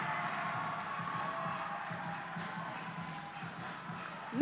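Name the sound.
crowd cheering for a fencer at a fencing league event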